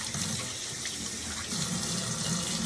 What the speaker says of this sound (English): once you've cut them lengthwise in half, you're going to want to rinse them